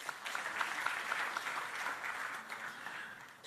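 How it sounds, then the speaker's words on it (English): A conference audience at the ITU Regional Development Forum for Africa 2018 claps in a steady, even burst of applause, moderately loud and continuous with no speech over it. "Let's give a big round of applause to them."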